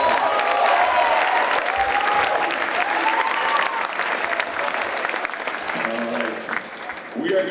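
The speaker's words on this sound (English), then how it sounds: "Let's give him a round of applause." An audience at a high school Christmas concert applauds a soloist with a full, steady round of clapping and some cheering, then thins out toward the end as voices rise.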